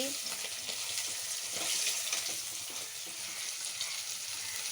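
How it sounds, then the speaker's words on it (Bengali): Hilsa fish fries briefly in a pan, a soft steady sizzle heard close but fairly quiet, with faint clatter of turning or lifting the pieces. "আজকে ইলিশ মাছ বেশি ভাজতে হয় না"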